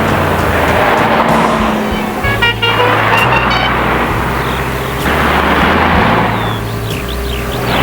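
A team car follows close behind a three-rider breakaway at the 1976 Paris-Roubaix, its engine droning steadily and loud along with road noise and passing vehicles, with several short horn toots scattered throughout.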